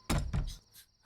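Knocking on a door in a dramatic scene from a romantic Hindi-dubbed movie: two or three loud, close thuds with a short pause between them, heard alone.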